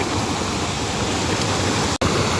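Steady broadband rush of river water flowing continuously and fairly loud, with a brief dropout near the end and no voices.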